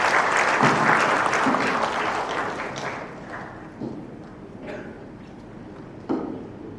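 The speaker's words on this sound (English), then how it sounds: "give a round of applause to our distinguished speakers" A conference audience applauds its speakers after a question-and-answer session on maritime defence, broad clapping loud at first and thinning out, with a few scattered claps near the end.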